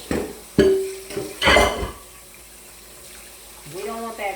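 Water runs from a kitchen tap into a bowl coated with cornmeal in the sink, splashing in short bursts with a few dish clinks, and a brief voice near the end.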